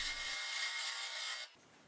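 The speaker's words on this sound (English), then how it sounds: "So let me start turning this to get it round, see what it looks like." Wood being turned on a lathe with a round carbide chisel while shaping a segmented bowl, a steady close hissing scrape with a faint rhythmic rattle that stops abruptly near the end, no talking.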